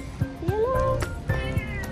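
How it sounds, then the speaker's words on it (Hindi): Cats fighting with each other give several sharp, rising meows and yowls in quick succession, close and fairly loud, with brief scuffling noises between the cries. "गाइस इन बिल्लियों को देख लो, लड़ रही है आपस में"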